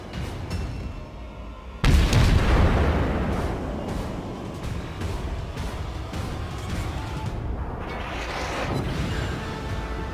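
A warship firing high-explosive shells in the naval battle game World of Warships, a sudden heavy boom followed by a long rumbling decay and continuing low battle noise, loud and close.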